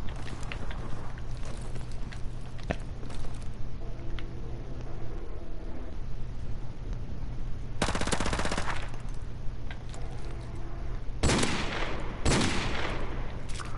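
Light machine gun fire in a video game comes in sustained bursts, with loud, dense volleys around the middle and near the end over a constant background hum.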